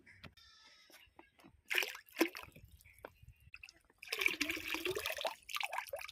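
A liquid chemical is poured into water during a cleaning job. It sounds as soft, intermittent splashes and drips, with a longer, fuller pouring stretch toward the end. The sound is close but quiet.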